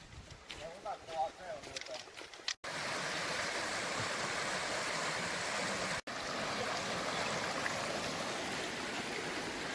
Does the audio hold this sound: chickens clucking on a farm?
no